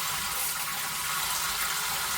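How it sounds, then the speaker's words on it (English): Water gushes steadily from the faucet of a 2026 inTech Sol Horizon camper van, a constant close hiss of running water with no pause. "I'm going to press it in so the water is on."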